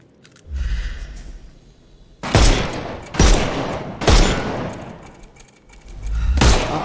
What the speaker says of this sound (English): Shoot off their armour.